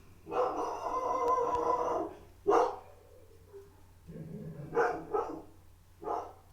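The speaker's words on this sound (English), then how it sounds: "Excuse the dogs." Dogs bark nearby in several separate bursts, one drawn-out yowl followed by shorter barks, with quiet gaps between them.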